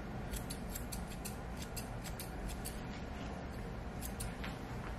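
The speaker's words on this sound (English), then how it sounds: "we're going to go ahead and trim with our scissors here" Repeated crisp snips of scissors trimming a Brittany Spaniel's fur, a quick irregular rhythm of short clicks close by over a steady low background hum.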